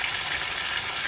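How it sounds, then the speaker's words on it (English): Fish frying in hot oil gives a steady, close, bright sizzle with constant crackle and no talking. "We're gonna fry the fish."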